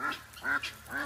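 Several male geese on a farm animal sanctuary give three nasal honking calls in quick succession, close and fairly loud, with no talking.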